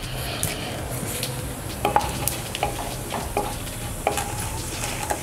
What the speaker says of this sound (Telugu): 1/2 టీ స్పూన్ ఆవాలు, 1/2 టీ స్పూన్ మినపప్పు, 1/2 టీ స్పూన్ పచ్చిశనగపప్పు, 1/2 టీ స్పూన్ జీలకర్ర వేసుకొని వీటినన్నింటినీ బాగా వేయించుకుందాం